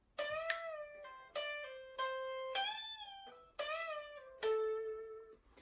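An electric guitar plays a section of the solo: six or so clear picked notes with bends and held pitches, each attacking sharply then ringing out, alone and close.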